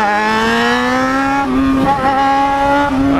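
A Yamaha XT660 motorcycle engine drones loudly and close, its pitch climbing steadily in a continuous acceleration with brief dips where gears shift, and no voices over it.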